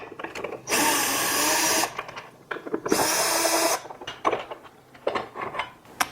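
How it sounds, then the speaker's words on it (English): A power driver backs out the mounting screws from the feet of a Vizio TV in two long whirring runs, with light metallic clicks and handling clatter between them. "So we're going to remove the 2 screws in each foot and go ahead and get those removed."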